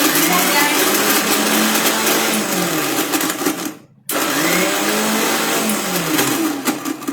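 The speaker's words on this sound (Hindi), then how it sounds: "मैंगो का ब्लेंड किया मैंने।" Mixer grinder blending mango pieces for a thick shake, a loud steady whirring motor that cuts out briefly for a pulse and then starts again at full speed.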